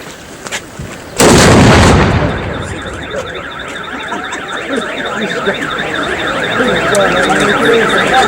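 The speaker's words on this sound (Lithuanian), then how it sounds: "patrankų šūviu." At the Baisogala town festival, a single loud ceremonial cannon shot booms close by, and a car alarm starts wailing in a repeating warble right after it while people's voices are heard faintly.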